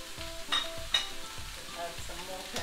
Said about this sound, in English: add some more pepper, and then keep stirring this